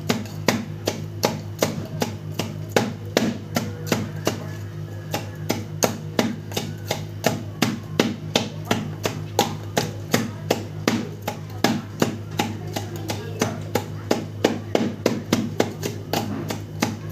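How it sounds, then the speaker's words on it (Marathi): Green chillies chopped finely with a knife on a board, a fast even run of close, crisp taps that repeats steadily without pause over a low background hum. "हे बघा मिरची मस्तपैकी बारीक झाली."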